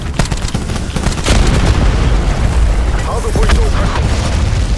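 Hellstorm missile salvo strikes in Call of Duty Black Ops 4 on PS4, a rapid chain of loud booming explosions with gunfire crackle, under a short in-game announcer voice line.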